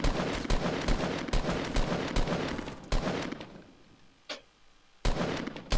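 Rapid bursts of video game gunfire in a Normandy battle, loud and dense with repeated sharp shots for several seconds, a short gap with a lone crack, then heavy firing resumes.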